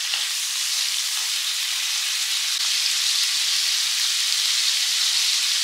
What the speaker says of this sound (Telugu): ఈ ప్రాన్స్ బాగా ఫ్రై చేసుకోవాలి. ఈ ఫ్రై అయ్యేటప్పుడే కొంచెం సాల్ట్ యాడ్ చేసుకుందాం.